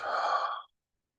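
A single deep, breathy exhale sigh lasting just over half a second during a facial massage, close and soft, followed by silence.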